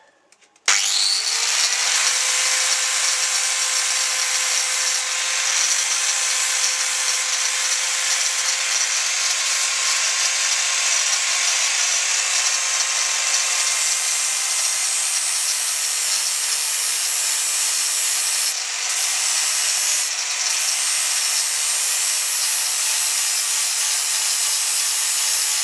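Power grinder cutting into a steel mechanic's clamp, spinning up and then holding a loud, sustained high-pitched screech of abrasive on metal for over twenty seconds, close and alone.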